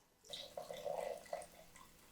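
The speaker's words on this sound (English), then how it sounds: "All right, let's pour in that broth. I'm using chicken broth" Chicken broth pours into a cooking pot on the stove, a soft liquid splashing and gurgling that starts abruptly and tapers off, quiet and close with no talking.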